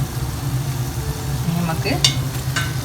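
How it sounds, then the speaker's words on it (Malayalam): Homemade donuts sizzle and bubble in hot oil, a steady close frying hiss with a few scraping stirs and clinks, under a brief spoken word. "ഇതാട്ടോ നമ്മളെ ഡോണട്ട് പൊരിച്ചെടുത്തിട്ടുണ്ട്"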